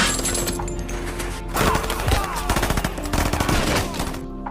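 Rapid bursts of gunfire and machine-gun fire crackle in a war film battle against German troops, dense and loud throughout, with crashes and explosive hits mixed into the chaotic soundtrack.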